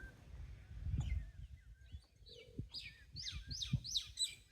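Small birds chirping near an ostrich enclosure, a series of quick bright tweets that grow more frequent toward the end, over low rumbling background noise.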